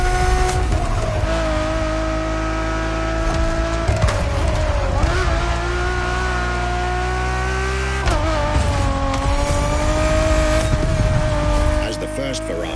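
Ferrari Enzo engine in The Crew Motorfest, revving hard and shifting through gears with a steady high-pitched drone, dipping and climbing at each change, tires squealing at times while a voice talks over it.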